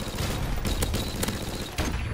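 Rapid, dense P90 gunfire in the shooter game Modern Warfare Remastered fills the whole stretch, a steady loud rattle with a few sharper bursts standing out.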